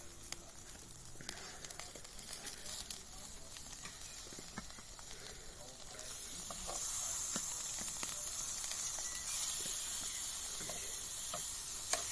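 Pork grills on a hot pan with no oil, making a steady sizzling hiss with scattered crackles that grows louder and fuller about halfway through.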